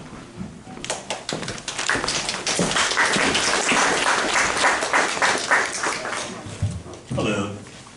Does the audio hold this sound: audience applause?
yes